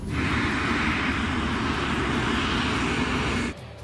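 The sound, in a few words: LAPA Flight 3142 airliner starting its takeoff roll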